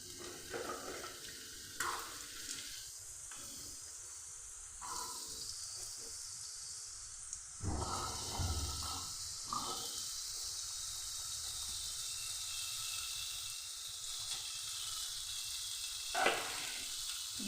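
Potato pieces hit hot mustard oil with black cumin in a pan, giving a soft steady sizzle with a few louder bursts of clatter and stirring.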